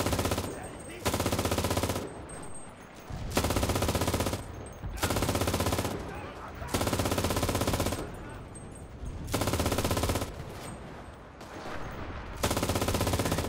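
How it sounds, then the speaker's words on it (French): A mounted MG fires from a bunker over a D-Day beach in Enlisted, in long sustained bursts broken by brief pauses, loud and close and dominating the scene. "En plus je suis un des seuls à tirer à la MG"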